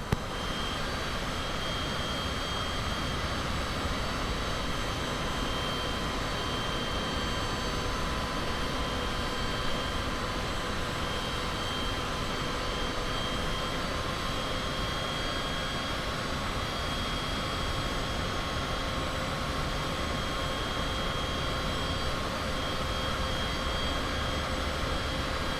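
Cessna light aircraft engine idling and taxiing in Microsoft Flight Simulator, a steady droning hum with high whine tones, constant and fairly loud throughout with no talk.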